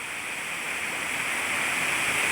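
A small waterfall near Dabhole village rushes in a steady, broad hiss of falling water that stays even and continuous without any break.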